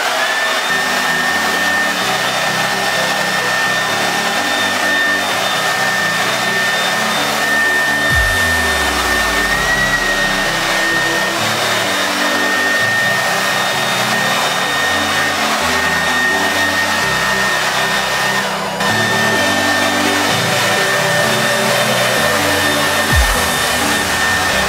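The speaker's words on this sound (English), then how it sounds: "credit to Blumont, I'm stealing this technique of blow drying and moving your hair straight back" A hair dryer blows continuously and loudly close by while drying hair straight back, a steady rushing roar with a faint high whine and small shifts in tone as it moves, with no talking.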